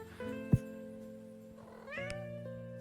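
A cat meows in the My Dream Setup video game, a single clear cry over steady tonal game music, with a second softer meow near the end.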